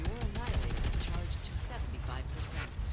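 Robocraft combat brings rapid bursts of video game gunfire, loud and rattling, repeating throughout with a voice talking over the shooting.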